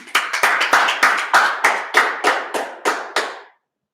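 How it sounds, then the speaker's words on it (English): A group of people clap hands in unison at a Tuesday night brotherhood meeting in Durham, North Carolina, roughly a dozen sharp, loud claps in a steady rhythm that slows slightly before stopping, with no talk over them. "clap it up"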